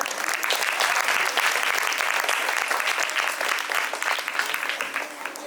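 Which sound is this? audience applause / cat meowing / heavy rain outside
audience applause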